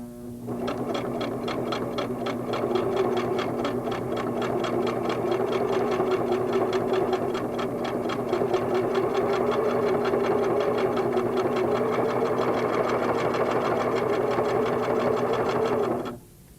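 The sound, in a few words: Singer sewing machine straight stitching fabric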